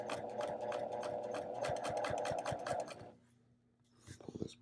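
A sewing machine stitches in the ditch of a flange binding in a steady fast run of needle strokes for about three seconds, then stops, followed by soft handling noises.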